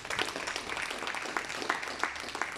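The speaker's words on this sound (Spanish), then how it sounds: "Demos fuertes palmas a Cristo Jesús." A church congregation claps together during a Sunday service, a soft, steady patter of many hands with a few sharper claps, heard at a distance.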